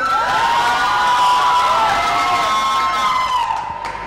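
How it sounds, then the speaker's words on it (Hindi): Studio audience on a cricket talk show cheering, whooping and clapping loudly and steadily for a newly introduced guest, a dense continuous roar that dips slightly at the end. "स्वागत है आपका, जोरदार तालियां इनके लिए"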